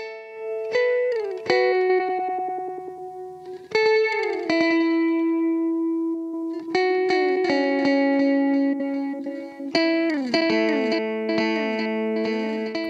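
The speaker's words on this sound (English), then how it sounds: "Size controls the time between each echo." Guitar phrases pass through a Habit echo pedal as the echo size changes. Repeats smear and pitch-bend while the spacing between them shifts, and layered echoes build into a dense, loud wash.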